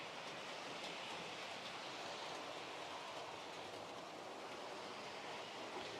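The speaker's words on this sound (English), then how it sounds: "those carriages seem to be running around quite nicely" Model train carriages run around a track as a quiet, continuous rolling rumble with a soft hiss, steady and unbroken throughout with no talking.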